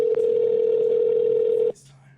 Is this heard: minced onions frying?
no